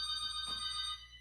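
A landline telephone rings indoors, a steady electronic trill heard fairly faintly in the background while a kitchen stays quiet.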